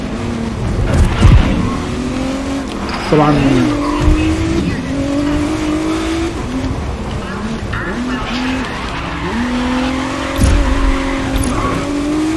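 Race car in GRID Legends revving hard with rising and falling engine pitch through gear changes, tires squealing and skidding through corners, loud and close, with someone briefly talking over it.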